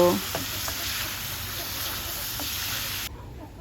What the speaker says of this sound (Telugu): ఇప్పుడు మనం చికెన్ వేసుకున్నామండి చికెన్ వేసేసి కలిపేసి